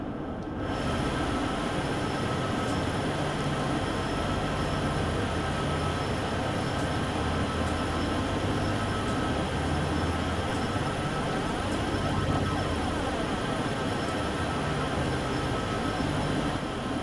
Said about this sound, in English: Oh, there is another train going on that side.